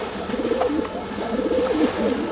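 Pigeons at a Jammu and Kashmir loft coo in soft, repeated low phrases close by, overlapping one another against a steady background hum.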